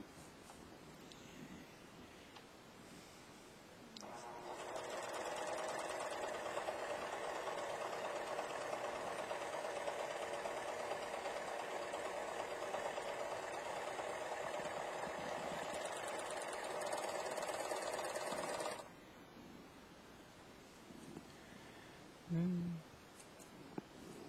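A Finishing Touch 14SH654 serger stitching a flatlock seam on heavier fabric runs at a steady, fast mechanical whir for about fifteen seconds, starting and stopping abruptly amid quiet room noise.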